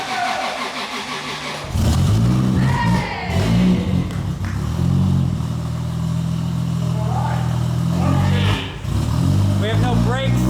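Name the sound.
car engine first start and revving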